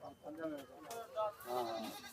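A goat bleats several times at a goat market in Surewala, with short wavering cries repeating over continuous nearby chatter and crowd talk.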